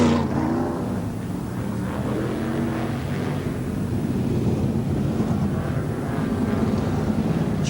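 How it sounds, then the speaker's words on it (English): A 1985/86 sprint car, Greg Flarty's number 25 from South Australia, is pushed away at Speedway Park Adelaide while its engine drones steadily and loudly throughout, with no talking. "that's Greg Flarty's car number 25 from South Australia being pushed away"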